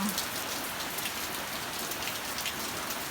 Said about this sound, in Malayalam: അപ്പം നല്ല മഴയാണ്